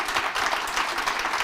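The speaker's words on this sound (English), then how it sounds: "I would like us all to give a round of applause for our great panel." An audience at a healthcare panel event gives a round of applause: dense, continuous clapping that fills the whole moment, close and fairly loud.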